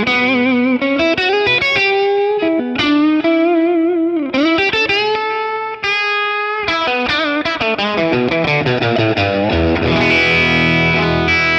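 Distorted electric guitar through a warm amp setting plays a melodic line with echoing delay trails and a chorus shimmer, loud and continuous throughout.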